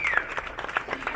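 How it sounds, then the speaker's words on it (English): A small gathering applauds during a close-up showing of the C8 car, light scattered clapping, fairly quiet and uneven, over the brief moment. "Give Jeff a round of applause."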